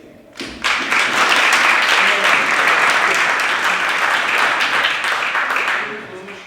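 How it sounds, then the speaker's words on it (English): A crowd applauds steadily for several seconds at a full council meeting, dense clapping filling the room at a fairly loud level before tapering slightly at the end. "this council should applaud it, and I'm glad everybody is."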